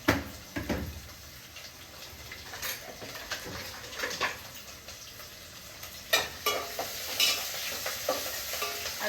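Curry leaves fry in oil in a pan, sizzling steadily while a spoon stirs them with repeated scraping strokes, close and moderately loud, with no talking.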